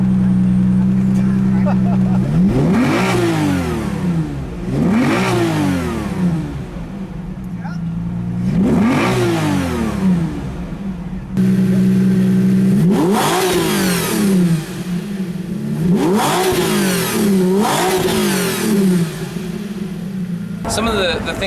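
A Lamborghini Diablo VT 6.0 engine idles nearby while still warming up, its revs repeatedly swelling and dropping in slow, regular cycles every couple of seconds.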